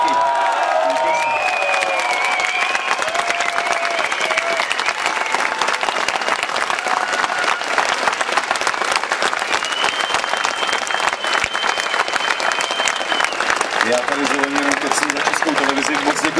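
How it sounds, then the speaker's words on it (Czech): A concert audience at a show in Karlovy Vary applauds loudly and steadily in a dense, sustained wash of clapping, with cheers and a voice rising above it at times. "děkujeme za potlesk a za podporu"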